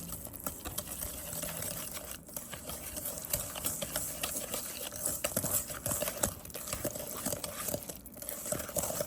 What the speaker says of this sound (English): We can always mix it with a whisk. Okay, just to combine all the ingredients.